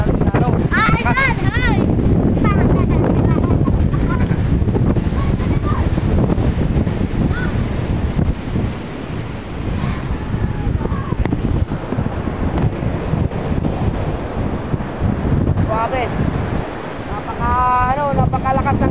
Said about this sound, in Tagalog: Napakalakas ng alon dito mga idol.